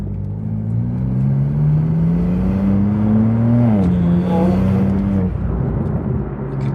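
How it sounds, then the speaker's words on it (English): A 2024 BMW M2's stock exhaust revs loudly, the engine note climbing steadily before dropping and surging again, close and alone. "it sounds so good for a stock exhaust as well"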